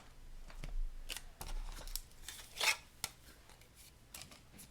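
A small die cutting machine rolls paper through its plates with faint, intermittent crinkling, clicks and rubbing scrapes at close range, spaced irregularly over several seconds in a quiet room.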